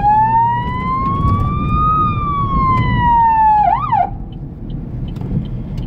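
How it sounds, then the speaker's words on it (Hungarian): A loud, close emergency vehicle siren wails with slow rising and falling sweeps, then ends in a quick yelp before cutting off, leaving road noise behind. "Csak sziréna."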